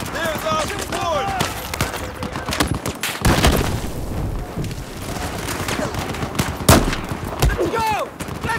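Rapid machine gun bursts and heavy gunfire crack through a Battlefield 4 single-player battle, loud and close, with sharp booms punctuating the steady rattle while voices shout over the combat.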